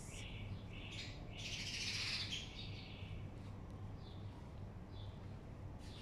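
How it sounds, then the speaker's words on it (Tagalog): Several birds chirp and tweet at moderate distance, with a busier burst of calls partway through over steady outdoor background noise. "Ang ingay ng ibon."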